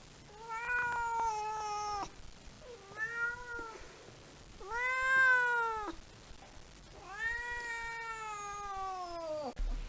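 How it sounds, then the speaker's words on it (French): A domestic cat meows four times, long drawn-out wailing calls with gaps between them, clear and fairly close with no talking. "Il miaule, surtout pour communiquer avec ses maîtres."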